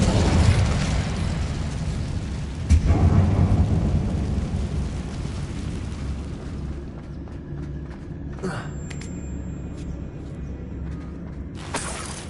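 An Incendio fire spell cast inside a closed, tomb-like mine in the game Hogwarts Legacy gives a loud, deep rumbling roar with a thunderous burst, easing into a steady low rumble with a few sharper flares near the end.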